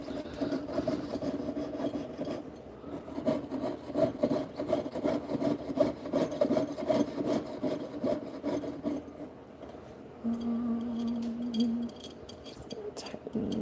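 A jeweler's saw pierces a silver stamping with rhythmic rasping strokes that go on steadily, close and fairly loud, with a brief higher scraping passage near the end and no speech.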